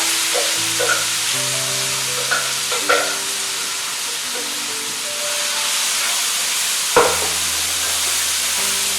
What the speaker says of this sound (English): I'm going to add about 10 curry leaves. They're very noisy